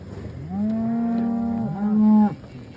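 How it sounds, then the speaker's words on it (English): Cows out in a pasture let out one long, loud, close moo with a second shorter moo following right after it, heard alone with no talking. "But pretty solid set of cows right here."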